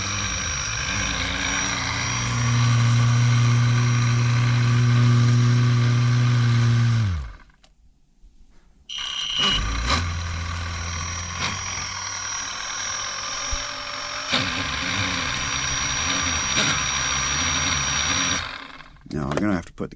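A small engine drives a helicopter rotor built for a snow trike, a loud sustained drone that cuts out, then restarts with a steady buzzing whine up close and a brief final burst.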